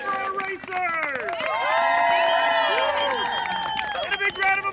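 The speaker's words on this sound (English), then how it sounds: "A big round of applause for our racers!" An audience at a Wacky Races event applauds and cheers for the racers, a steady swell of clapping and crowd noise with loud voices calling out over it, fading toward the end.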